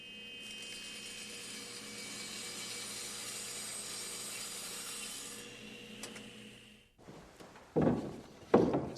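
A saw runs through a stair board tilted slightly off square, a steady, faint whirring cut lasting several seconds, followed by a few knocks and clunks as the piece is handled.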